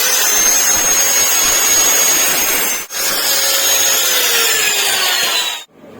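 A power cutting tool cuts off the excess of a motorcycle brake lever shim with a loud, continuous high whine and grind, close up. Two short breaks interrupt the cut.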